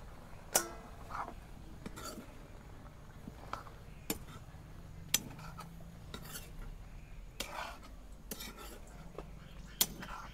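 Eggplant pieces go into a pan of simmering dried-fish curry amid a steady low bubbling, punctuated by scattered sharp clinks and taps of a utensil against the pan.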